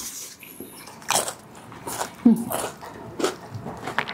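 Crunchy KFC Zinger fried chicken bitten and chewed close to the mic, several crisp crackling bites at an uneven pace, mixed with soft voices talking.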